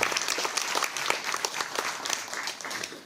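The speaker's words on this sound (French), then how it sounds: "vous pouvez vous applaudir, parce que franchement, vous le méritez" An audience at a New Year's address by a French deputy in Évry-Courcouronnes claps together in a brief, even burst of applause, dense and moderately distant, with a few sharper individual claps standing out.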